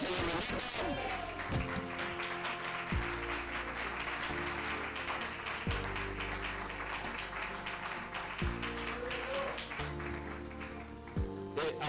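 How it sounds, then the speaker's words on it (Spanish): A church congregation breaks into sustained applause over music, with steady clapping and a sustained chord running beneath it for the full stretch, loud and continuous. "Un aplauso para el Señor Roberto."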